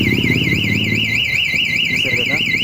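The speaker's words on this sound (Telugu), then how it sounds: "ఇది యాంటీ థెఫ్ట్ అలారం." A motorcycle's remote-controlled anti-theft alarm blares a loud, rapidly warbling electronic siren, continuous and close, with faint talk underneath.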